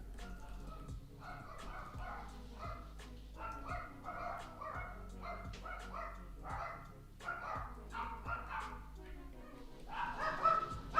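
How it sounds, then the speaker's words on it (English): Several dogs bark in repeated sharp bursts at close range indoors, with yips and whimpers mixed in, while a voice talks faintly underneath. "Oh, these dogs. Apologies for the dogs."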